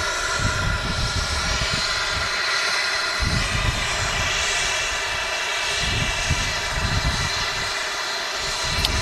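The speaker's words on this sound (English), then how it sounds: "Embraer Phenom just taxiing in there." An Embraer Phenom business jet taxis at Manchester Airport, its engines giving a steady loud whine and roar with a low rumbling undertone that holds throughout.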